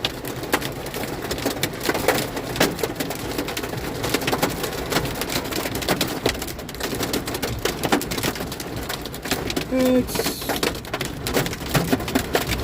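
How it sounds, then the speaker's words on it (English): Pea-sized hail pelts a truck during a Texas thunderstorm, a dense, loud, continuous patter of sharp ticks striking the cab and hood throughout. "kind of pea-sized hail."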